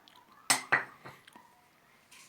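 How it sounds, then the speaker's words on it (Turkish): Metal utensil clinks against a bowl while dry dough ingredients (salt, sugar) are mixed for katmer gözleme: two sharp close clanks, then a few softer scraping taps, quiet room, no talking. "Onu da karıştırıyoruz şöyle bir."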